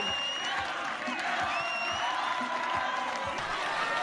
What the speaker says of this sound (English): The Columbia crowd is letting them hear it right now.